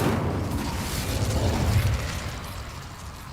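An Incendio fire spell cast in the video game Hogwarts Legacy gives off a steady, roaring rush of flame lasting several seconds, fairly loud and even throughout, with a sharp burst right at the end.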